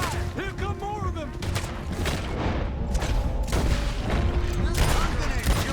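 Gunfire in the video game Red Dead Redemption 2, a dense fusillade of shots and booms that goes on steadily under shouting voices.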